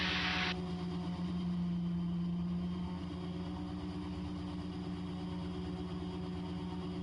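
A Raptor prototype aircraft engine pulled back to 55% throttle from full power, still making plenty of power, gives a steady, loud, continuous droning hum with a faint propeller whine.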